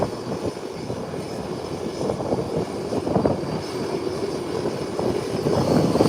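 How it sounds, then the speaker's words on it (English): A Delta airliner taxis toward the runway threshold before departure. Its engine makes a steady, loud roar and rumble that holds through the whole stretch, with no voices over it. "Delta is making its way to the threshold of the runway where it will start its departure."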